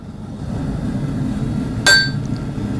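A hammer strikes hot knife steel once on an anvil during forging, giving a single sharp metallic ring with a short ringing tail over steady low background noise.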